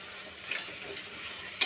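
Spice paste sautéing in a pan for a banana-flower curry, being stirred as it fries, with a quiet, soft sizzle and light scraping and a brief sharper clatter near the end.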